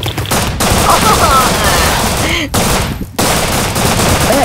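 Gunfire in the survival game Rust, a dense sustained burst of shots filling the clip with two brief gaps, loud and continuous with no talking.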